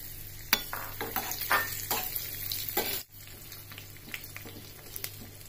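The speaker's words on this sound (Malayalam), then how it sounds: "ഇനി നമുക്ക് ഉണക്കമുന്തിരിങ്ങ ഇട്ട് കൊടുക്കാം." Raisins and cashews sizzle steadily in hot fat for jackfruit seed payasam, a continuous close frying crackle with small pops and stirring scrapes throughout.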